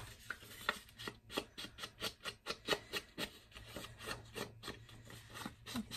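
An inked applicator is rubbed onto a piece of scrapbook paper, a soft rhythmic series of brushing strokes repeating quickly and evenly, quiet and close with no talking.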